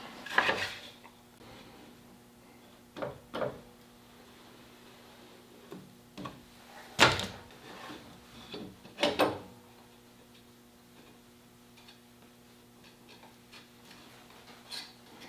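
Clamps clattering and clicking while being handled for a Titebond glue-up of two wooden guitar body panels: scattered sharp metallic knocks and ticks, close and intermittent, over a faint steady hum.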